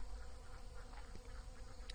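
Bees hum in a steady, close buzz that wavers slightly in pitch and loudness, with no voices present.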